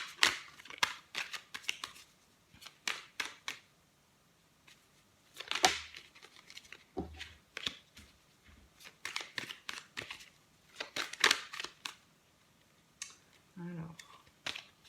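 A tarot card deck is cut and shuffled up close, with repeated crisp riffling bursts and soft slaps between pauses, and a voice talks over parts of it.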